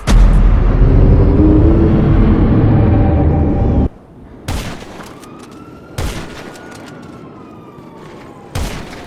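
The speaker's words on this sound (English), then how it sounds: "I had to go ahead and start launching the grenade launcher and using the sniper" Video game combat with grenade launcher and sniper rifle fire: a loud sustained roar of explosion and fire, then sharp separate shots with ringing tails, close and forceful.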